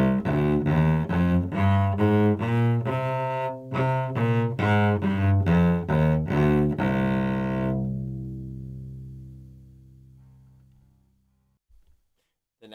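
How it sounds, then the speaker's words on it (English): A cello plays a C natural minor scale note by note in steady, even bowed strokes, climbing and descending, before a final low note sustains and fades out; no voices over it. "This is the C natural minor."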